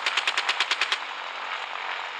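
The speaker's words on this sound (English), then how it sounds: "that's my anti-aircraft gun" In the video game Gunship Battle, an anti-aircraft gun fires a fast burst of about nine sharp, loud rounds, then a steady rushing hiss lingers alone.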